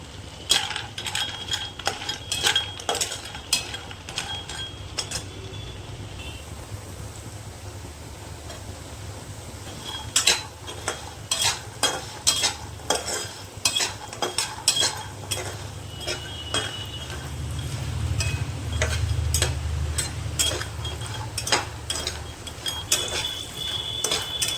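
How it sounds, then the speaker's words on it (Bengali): Lentil badi frying in hot oil while being stirred: repeated sharp metallic scrapes and clicks of a utensil against the pan ride over a steady low sizzle, with no voices. "বড়িগুলো আমি তেলের মধ্যে দিয়ে ভেজে নেব"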